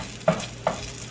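A keto pancake sizzles in a pan just after flipping, with a steady low frying hiss and two brief scraping taps of a spatula close by.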